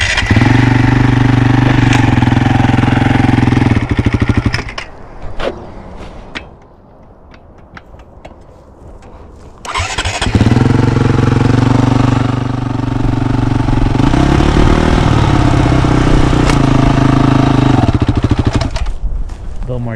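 Mini bike engine revving with no clutch, a loud buzzing rasp that drops to a low sputter midway and then roars back up, with people talking over it.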